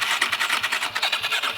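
A rental ATV quad's engine churns through a fast rhythmic starter or idle pulse, loud and close, with steady evenly spaced beats and no talk.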